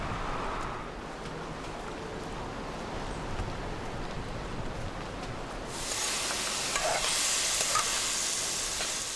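Onions, sweet pepper, garlic and tomatoes fry in vegetable oil for a traditional Jamaican ackee dish, a constant close sizzle with stirring scrapes that swells into a brighter, louder hiss near the end.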